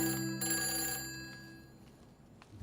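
A telephone rings in a Hindi comedy film, a bright electric bell tone that trills loudly for about a second and then fades over a quiet room, with no talking.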